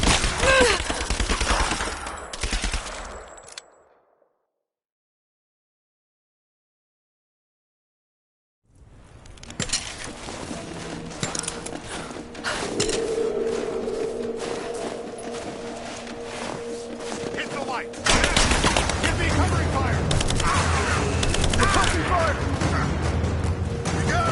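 Gunfire in the Tomb Raider video game, with dense bursts and rapid shots mixed with shouted combat voices, cut by a few seconds of silence before the firing resumes even louder.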